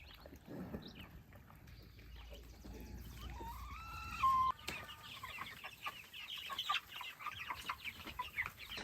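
Chickens cluck and call intermittently at close range, with one clear drawn-out squawk partway through over a quiet outdoor background.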